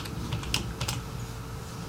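A username typed on a computer keyboard: a short, quick run of light key clicks, close and fairly soft, with no talking.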